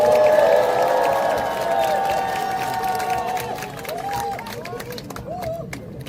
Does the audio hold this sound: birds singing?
no